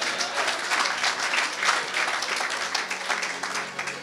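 A church congregation applauds the Lord together, a dense, steady wash of clapping that holds evenly from start to finish with no voices breaking through.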